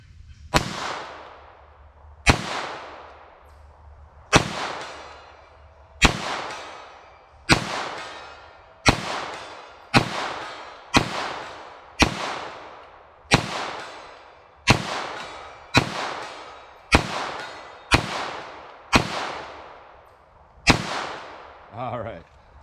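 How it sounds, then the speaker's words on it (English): CCI Blazer .22 LR target ammo fired at an outdoor range: about fourteen sharp, loud cracks, each with a decaying echo, spaced roughly every one to two seconds and quickening toward the end, with no talk. "Started firing a little too fast."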